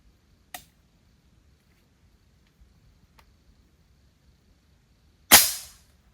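A faint sharp click, a few tiny ticks, then one loud crisp snap of an air rifle shot with a short fading tail, in a quiet setting.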